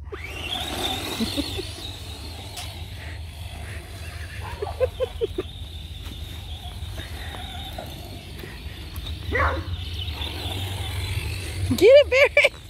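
A beagle named Barry bays and yelps in several short, whiny bursts while chasing a remote-control car, with a faint high motor whine running throughout and people talking nearby.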